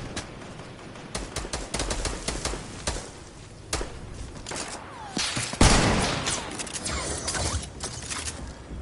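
A multi-shot hunting rifle firing in Fortnite, with rapid bursts of sharp, loud cracks in quick volleys, then a heavier boom and echoing blasts amid the busy noise of game combat.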